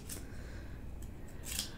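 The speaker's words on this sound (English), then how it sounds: "by going with the scissors, I just got to make sure that I don't cut all the way across to the other side of the paper" Scissors snip through paper while cutting pieces for a Christmas cookie chalkboard kit: two sharp, close cuts, one at the start and one near the end, over a steady background hiss.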